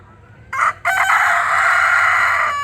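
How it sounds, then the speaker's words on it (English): A rooster on a rescue farm crows once loudly and close by, a short opening burst followed by a long sustained call, with no talking over it. "You are mean, Mr. Rooster."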